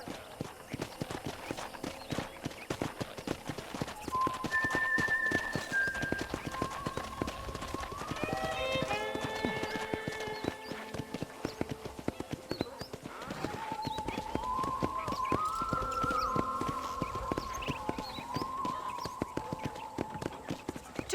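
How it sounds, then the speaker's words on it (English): Steady clip-clop of horse hooves while riding in the video game Red Dead Redemption, continuous and rhythmic throughout, with soft music tones and faint voices layered in the background. "let's see if you can still ride a horse"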